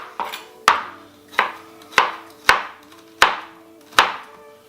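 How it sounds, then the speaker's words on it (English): A knife chopping ingredients thin on a cutting board for Guinness beef stew, about eight crisp evenly spaced knocks, close and clear with quiet gaps between strokes. "But I'm going to try to cut it up pretty thin"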